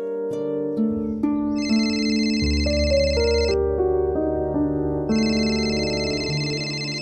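A mobile phone rings with a loud electronic melody of stepped tones and bright chiming repeats, playing continuously close by with no talk over it.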